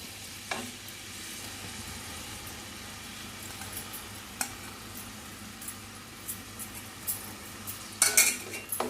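Chopped onions fry in sizzling oil in a pan while a utensil clinks and scrapes against it, the clatter growing busier toward the end.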